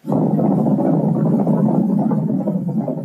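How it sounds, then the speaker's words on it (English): Horses running on a racetrack, a film sound effect: a dense, low rumbling thunder of many hooves that stays loud and steady throughout, with no voices over it. "one contains the sounds of horses running on a racetrack"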